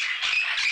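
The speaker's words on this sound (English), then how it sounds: "Parrot." A parrot gives one harsh, loud squawk lasting under a second, close and alone.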